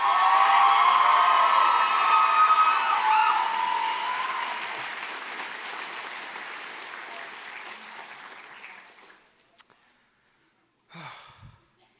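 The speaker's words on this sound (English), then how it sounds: "I just want everyone to give a huge round of applause for everyone who has helped." A graduation crowd applauds and cheers loudly, dense clapping with shouts that gradually fade over several seconds into near silence before a brief breathy sound near the end.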